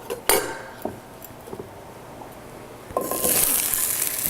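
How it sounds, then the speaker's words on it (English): Food dropped into hot, well-warmed cooking oil in a home kitchen, with a sudden bright sizzle bursting up near the end after a few quiet clinks of utensils, then a steady close hiss. "That sizzle, always like that."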